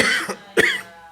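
A congregation member coughs twice in quick succession during a Sunday church sermon. The coughs are close and loud, with a short pause between them and a brief fading tail.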